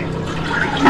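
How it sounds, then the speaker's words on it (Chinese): A toilet flushes in the horror game Indagar, a steady rushing of water that holds for a moment and swells louder toward the end, with no voices over it. "谁冲马桶？"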